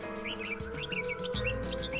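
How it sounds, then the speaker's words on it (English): Several caged songbirds sing together in a steady chorus of bright, repeated chirps and warbles, close and continuous over a low background hum. "birdsong helps us focus our mind and improve our sense of well-being"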